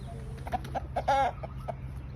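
Roosters at a Thai fighting-cock farm in the morning give a run of short, close clucks and throaty calls over a low, steady background hum.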